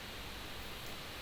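A flat, steady hiss of broadband noise, unchanging and fairly quiet, with nothing else audible.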